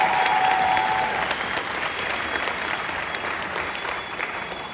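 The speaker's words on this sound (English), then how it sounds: "And give them a round of applause for that." A concert audience gives loud, sustained applause for a high school percussion ensemble at a Christmas concert, the clapping dense and continuous and slowly easing off.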